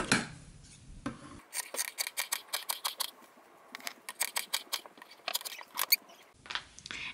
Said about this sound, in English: now we're going to cut tabs so we cut both at once